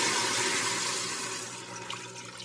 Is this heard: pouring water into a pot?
yes